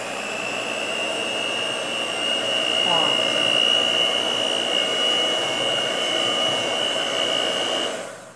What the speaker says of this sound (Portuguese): enquanto eu vou batendo aqui com a batedeira